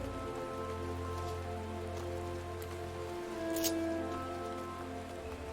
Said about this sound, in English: Oh no, it's raining and I didn't want to put on my parasol.